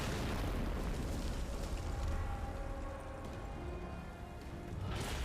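Explosions in the video game Stellar Blade: a dense, continuous roar of booming blasts and rumble lasting several seconds, loud and steady with a fresh burst near the end.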